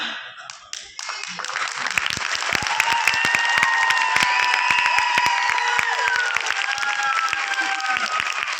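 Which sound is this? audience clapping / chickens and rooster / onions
audience clapping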